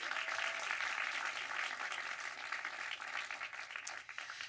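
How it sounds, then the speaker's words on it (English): An audience applauds at a film screening, a bright, continuous patter of clapping that holds steady and then thins and fades toward the end. "So a big round of applause for all of them."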